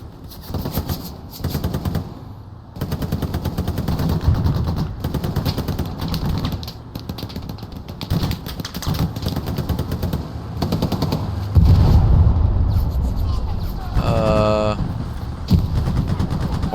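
Gunfire in the World War II shooter Hell Let Loose, set in a freezing Ardennes battle: repeated loud rapid-fire bursts and single shots ring out across the whole stretch, with a rattling burst near the end and occasional voices talking underneath.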